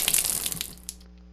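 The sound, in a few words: water draining through a valve, from video game The Last Door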